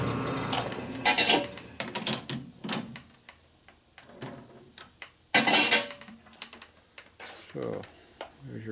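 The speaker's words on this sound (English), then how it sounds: "Another deburring tool." A deburring tool scraping and rattling against a soft 1961 Harley-Davidson Sportster XLCH transmission part, irregular bursts of metallic grinding and clatter with gaps between strokes, close by, with brief voices in the background.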